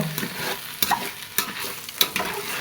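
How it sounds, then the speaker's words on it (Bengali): Bhuna khichuri sautéing in a pan with a spoon stirring through it, giving a steady sizzle broken by a few sharp scraping clacks against the pan, close up and with no voices. "তাই রান্না বসাই দিলাম কষাইতেছি"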